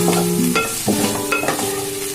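Ginger, garlic and crushed cumin paste fries in a pan for a pikkala curry. A steady close sizzle runs under brief scraping, tonal stirring sounds.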